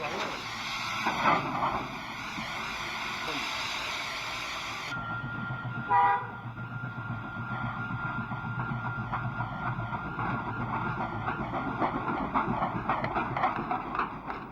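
A Chinese steam shunting locomotive, number 964, works nearby with chuffing and rattling wagons, a sustained whistle tone at the start, while someone speaks over it.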